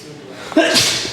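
A single sharp sneeze, close and loud, bursting suddenly out of a quiet indoor background and trailing off quickly.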